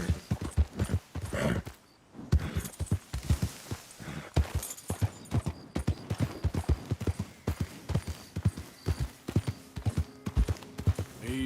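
Horse hooves clip-clop in a brisk, continuous rhythm, close and loud, with a brief pause early on before the gait resumes, in the video game Red Dead Redemption 2.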